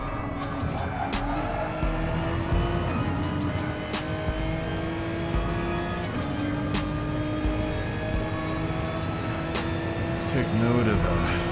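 A race car in the GT Sport video game laps the Red Bull Ring, its engine droning steadily and loudly throughout while gear shifts and revs rise and fall without pause.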